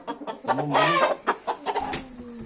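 A young rooster chick clucks and chirps up close, a run of short rising and falling calls with a brief louder squawk near the end.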